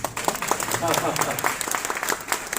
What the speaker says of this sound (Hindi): अब जितनी पसंद आती तालियां तो उतनी बजती हैं।